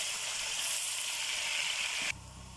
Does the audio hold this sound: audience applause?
no